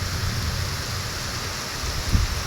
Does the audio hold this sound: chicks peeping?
no